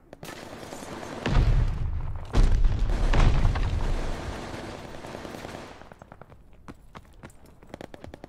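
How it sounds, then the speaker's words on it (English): A grenade goes off in Call of Duty: Vanguard, two heavy booming blasts close together that are followed by rattling bursts of automatic gunfire. The shooting fades toward the end under faint background sound. "Tossing grenade!"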